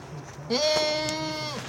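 A goat on a farm lets out one long, loud, wavering bleat close by, with faint background sound before it begins.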